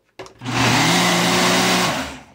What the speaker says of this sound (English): So here's my blender.